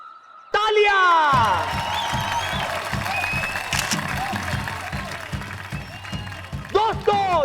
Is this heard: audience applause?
yes